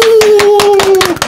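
A few sharp, close hand claps land in a quick, uneven rhythm while a steady tone hums underneath.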